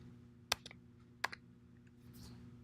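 Three quick keystrokes for Control-A-X on a computer keyboard, closing a QEMU emulator running xv6: sharp separate clicks, close and fairly soft, over a low steady hum with no talk.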